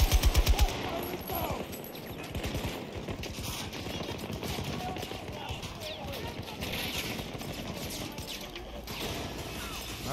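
Automatic weapon fire in the Battlefield 2024 video game chatters in rapid bursts amid dense battle noise, with players talking over the action.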